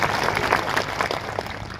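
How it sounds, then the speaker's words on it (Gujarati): Applause from an audience at a Mahashivratri temple festival in Dahod, Gujarat, a dense, steady patter of many hands clapping together for about two seconds, fairly loud and close, with crowd murmur beneath and no clear speech. "તો આ વાત જો સારી લાગી હોય તો જરા તાળીઓથી સ્વાગત કરી લો."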